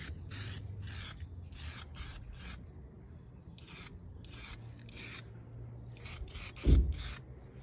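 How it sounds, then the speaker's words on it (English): Repeated short hissing bursts of an aerosol spray paint can on car bodywork, close and fairly loud, coming in quick pulses with brief pauses between them. "Now you're supposed to actually start spraying before you get onto the panel"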